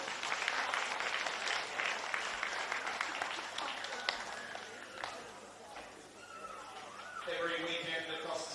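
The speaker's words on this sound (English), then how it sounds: "so big round of applause for Brisbane City." A crowd applauds Brisbane City at a women's football final, sustained clapping and cheering that thins toward the end as speech and a brighter tonal sound take over.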